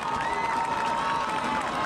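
High school football crowd at a Summit vs Parkway North game cheering and yelling for the Falcons at kickoff, a continuous, busy roar of voices with a sustained tone running underneath.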